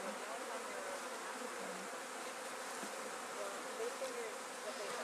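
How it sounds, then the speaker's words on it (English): Honeybees buzz continuously during a fall hive inspection, a dense, close swarm drone that stays steady and fairly quiet throughout. "that way we can get bees out without rolling them."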